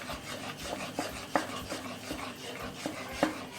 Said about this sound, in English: Add the gram flour and keep stirring it continuously.